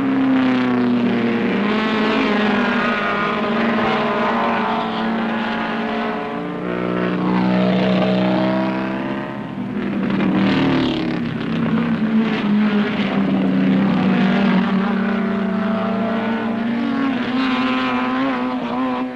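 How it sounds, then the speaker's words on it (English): Several 1968 British Saloon Car Championship race cars roar continuously at close range, engines droning and rising in pitch as they pass, loud and steady throughout with no talk. "Jackie Oliver has passed Muir and is chasing him hard."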